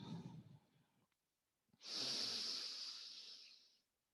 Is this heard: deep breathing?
yes